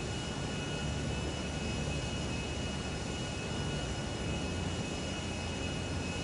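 A Miljet passenger jet in GTA Online drones along in flight, a steady, dense engine roar with a faint whine on top, unchanging and fairly quiet throughout, with no talk.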